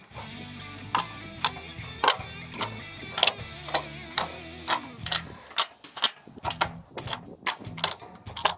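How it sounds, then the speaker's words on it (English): Bolts go in on an old trailer, probably driven by a ratchet, in a steady run of close mechanical clicks and ratcheting bursts repeating roughly every half second to a second, with no talking. "The holes line up fairly good, so let's finish putting the bolts in."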